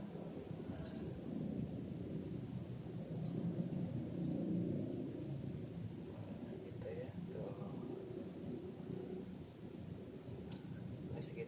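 A light early-morning drizzle falls outdoors among trees, a soft steady patter with a low rumble beneath, while voices talk nearby.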